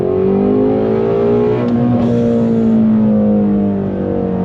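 A 2020 Shelby GT350R Heritage Edition V8 with a Tremec gearbox pulls hard on throttle, a loud, close, sustained engine note climbing and holding through the rev range, alone without voices.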